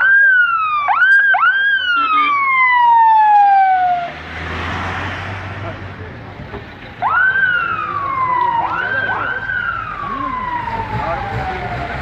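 Ambulance and fire engine sirens wail at a fatal car crash scene in Samsun's Esentepe neighbourhood, loud rising and falling tones from several vehicles sounding close by and overlapping amid street noise and rumble.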